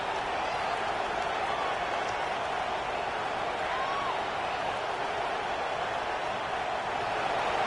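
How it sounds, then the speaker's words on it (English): A packed college football stadium roars for the defense on third down at Ole Miss versus South Carolina, a dense, steady wall of crowd noise that holds level throughout. "Decibels rising as the crowd gets behind this defense on third down."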